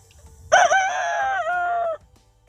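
A stage performer at a Manado show imitates a hen with his voice: one loud, sustained, wavering call lasting about a second and a half, alone over faint background.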